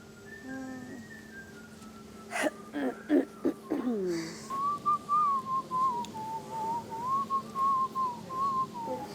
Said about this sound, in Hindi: ये कौन सीटी बजा रहा है, दिखा भी दे कौन है।